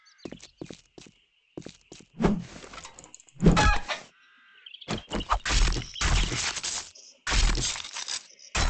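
Chickens cluck in 7 Days to Die, a run of short, sharp bursts at close range with brief pauses between them, carrying no speech.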